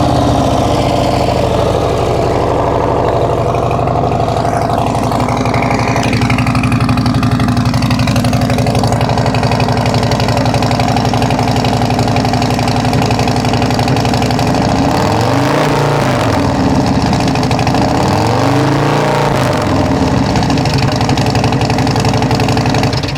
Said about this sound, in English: If you have not heard the BAM sticks on the new Milwaukee 117 with the water-cooled heads, it really will wake you up.